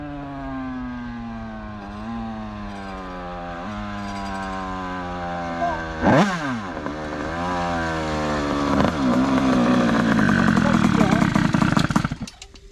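Bidalot WR race motorcycle engine howling hard and close, pitch climbing and dropping in repeated revs before holding near its limiter, loud and rough throughout.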